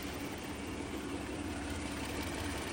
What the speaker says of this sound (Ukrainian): Ось так у нас працює двигун